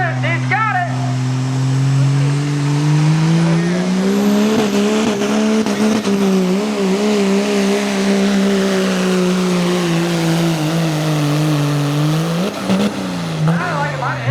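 Diesel street car roaring down a drag strip, a loud sustained engine note climbing steadily, then a sudden stutter near the end as it bounces off the rev limiter, with voices under it.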